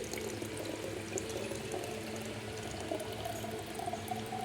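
Water from a home water filter trickles and drips steadily, a continuous close wash of liquid noise with no voices.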